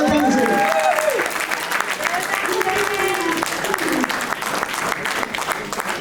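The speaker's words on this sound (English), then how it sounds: "Please give a round of applause to Zain." Steady applause from a seated audience at a Zoroastrian community patron award ceremony, clapping dense and continuous for the whole stretch, with faint voices blended into the crowd.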